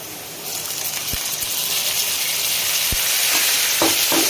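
Water poured into a pan of potatoes frying with turmeric and salt brings a sudden burst of loud sizzling and bubbling that swells and stays steady, with a few sharp ticks of utensils.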